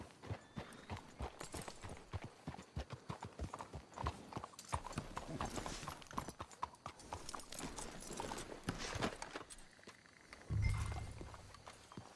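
Horse hooves clip-clop steadily in Red Dead Redemption 2 as several horses walk along, with brief low voices and a heavier thump near the end.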